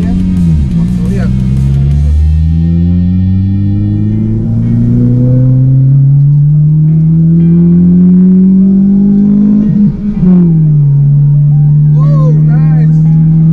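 A modified single-turbo Honda Civic accelerates hard on the street, the engine note climbing steadily through a long pull, then dropping after a shift and rising again, loud and close from inside the car.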